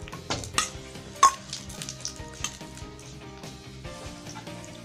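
Ghee sizzles lightly in a hot pan, punctuated by a few sharp metallic clinks and taps of utensils, fairly quiet and close.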